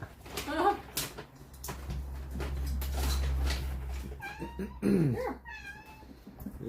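A cat meows several times in a room, with clear drawn-out calls near the end, mixed with a low rumble and people talking nearby.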